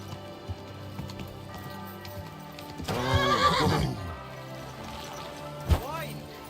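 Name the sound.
horse neighing and hooves in video game Kingdom Come Deliverance 2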